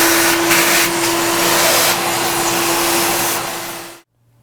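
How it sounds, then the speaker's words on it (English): A shop vacuum cleaner runs loud and close with a steady whine and rushing airflow as it sucks up ductile iron chips from machining, with faint rattles of chips, then cuts off abruptly. "let's get the vacuum cleaner so we can grab some of those ductile iron chips here"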